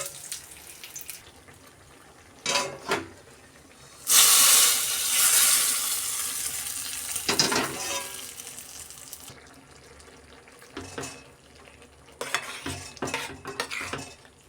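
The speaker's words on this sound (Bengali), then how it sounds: "এবার এটা আমি ডালের মধ্যে ঢেলে দিচ্ছি" Hot tempering with fried curry leaves poured into masoor lentil dal sets off a sudden loud burst of sizzling that fades over a few seconds, with quieter clinks and stirring before and after.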